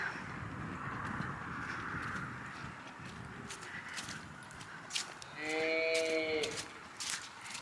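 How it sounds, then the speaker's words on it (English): A cow lets out a low, drawn-out moo partway through, amid outdoor rustling and scattered hoof-like clops. "you hear mooing"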